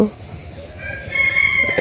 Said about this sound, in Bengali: মোরগ মুরগির ডাক